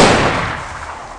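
Several TNT blocks go off together in Minecraft as one loud, close blast that rumbles and fades over about a second.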